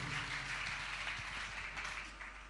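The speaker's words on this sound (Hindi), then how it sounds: "इनके सम्मान में एक बार जोरदार तालियां बजाएंगे" Applause honouring a speaker at a Jain religious discourse gathering, a dense wash of clapping from a large crowd, continuous and fairly even, tapering slightly toward the end.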